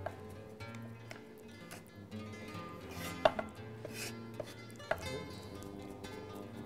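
A knife chops garlic finely on a cutting board in a home kitchen, with quick irregular taps and a few sharper knocks, close and clear.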